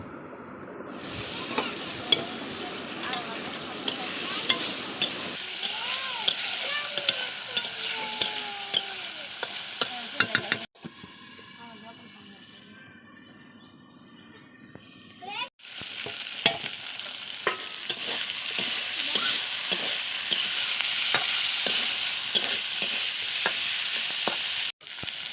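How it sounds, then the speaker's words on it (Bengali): Pointed gourd pieces being stir-fried in a pan sizzle loudly and steadily up close, with repeated scraping and stirring knocks, a brief quieter stretch midway, then strong frying again. "আমি পটলগুলো ভালোভাবে কষিয়ে নেব"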